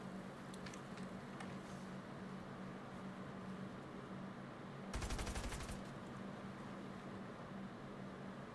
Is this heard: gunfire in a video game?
yes